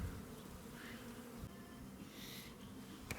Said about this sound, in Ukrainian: Вже сьогодні бджілки зовсім розліталися.